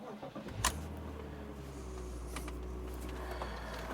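A car engine cranks and catches with a sharp burst, then settles into a steady low idle hum close by, with faint clicks near the start.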